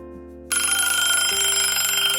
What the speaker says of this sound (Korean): 아침 7시도 안 된 시각에 울린 전화벨 소리에 깜짝 놀라 일어났습니다.